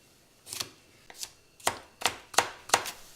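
Knife chopping a carrot on a cutting board while making chicken broth, six crisp, close thuds spaced about half a second apart, each a sharp, bright knock with nothing else around it.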